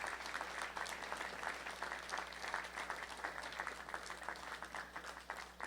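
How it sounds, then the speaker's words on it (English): Audience at a White Rock by-election all-candidates event claps for the event sponsors, a steady, fairly faint round of applause from a room full of hands, continuing throughout with no talking over it. "let's give them a round of applause"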